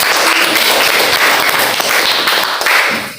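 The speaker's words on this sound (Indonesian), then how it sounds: "Tepuk tangan untuk." A classroom full of students claps steadily for a few seconds, the applause dense and even before tapering off at the end.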